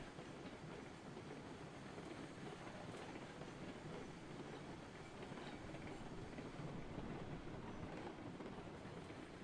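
A steam train in the video game Railroads Online runs backwards at full speed, giving a steady, dense rumble with rhythmic clickety-clack from the wheels throughout and no talking.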